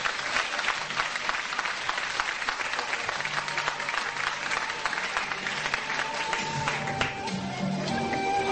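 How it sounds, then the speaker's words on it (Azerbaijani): A stage audience at an evening religious gathering applauds a women's hymn group, a dense, continuous roar of many clapping hands that holds steady and full for the whole stretch, with faint crowd murmur underneath. "Xahiş edirəm, xanımlarınızı ucadan alqışlayın."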